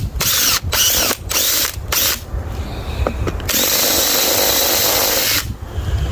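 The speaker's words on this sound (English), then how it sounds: "I'm going to drill it to maybe 3/4 of an inch," A power drill bores a 3/4 inch hole, whining loudly in several short bursts broken by brief pauses, then one long continuous run before stopping and starting again near the end.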